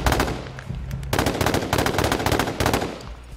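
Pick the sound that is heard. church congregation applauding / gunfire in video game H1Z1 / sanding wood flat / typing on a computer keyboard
gunfire in video game H1Z1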